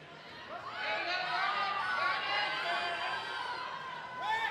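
Raucous crowd at a powerlifting nationals meet cheers and whoops steadily after the day's final squat, a dense wash of shouting voices with a louder burst near the end.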